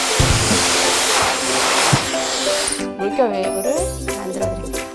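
A hair dryer blows with a steady, close hiss and roar for the first few seconds, then cuts out, leaving a voice talking over faint background music.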